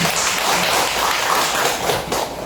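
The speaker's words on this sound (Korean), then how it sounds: "박수로 크게" Audience at a Korean book concert clapping, a continuous, fairly loud patter of many hands that eases slightly toward the end.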